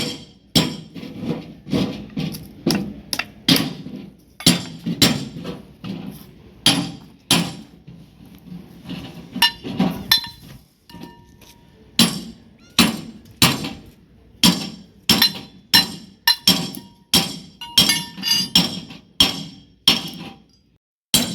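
Hammer blows drive a wooden wedge into a spade handle to tighten the blade fitting, sharp ringing strikes in steady bursts, some quick doubled hits, close and loud with no talk.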